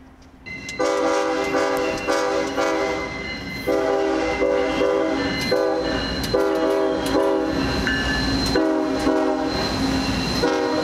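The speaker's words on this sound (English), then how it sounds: "We went back to Horseshoe Curve for our last two trains." Norfolk Southern freight train passing Horseshoe Curve on the Pittsburgh Line, loud and close, its air horn blaring steadily in long sustained blasts over the rolling rumble of the cars.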